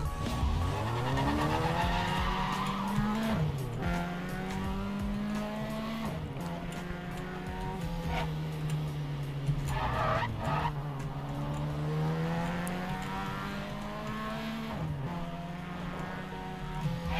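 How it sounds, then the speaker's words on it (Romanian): A Ford Lotus Cortina engine revs hard and continuously, its pitch rising and falling in sustained aggressive pulls, loud and close with no talking over it. "motorul se aude destul de agresiv"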